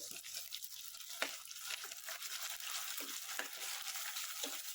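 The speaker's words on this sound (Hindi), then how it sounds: "कटे हुए कैप्सिकम ऐड करेंगे थोड़े से। कटे हुए टमाटर भी ऐड करेंगे।" Chopped capsicum and tomatoes fry in a pan while cooking masoor pulao, giving a steady close sizzle with occasional stirring scrapes throughout.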